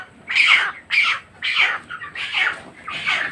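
Poultry-farm chickens squawk in five evenly spaced harsh bursts, each about half a second long, close and clear against a quiet background with no speech.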